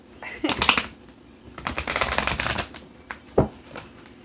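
Bursts of tarot cards being shuffled and riffled, crisp flapping and clicking in two main runs with brief pauses, close up.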